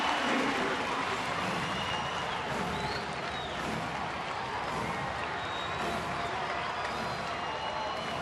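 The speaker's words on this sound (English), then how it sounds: "Chipper gets the crowd buzzing" A baseball stadium crowd with the bases loaded as Chipper steps in, holding a steady, dense buzz of murmuring and cheering that fills the whole stretch without pause.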